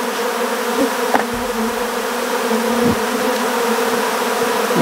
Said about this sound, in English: there are hundreds and hundreds of bees, angry bees, buzzing around me and everything